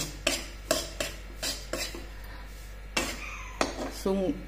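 Semolina roasted slowly in a pan for Maharashtrian kankecha shira, with a spoon scraping and clinking against the metal in a run of sharp, repeated strokes at close range.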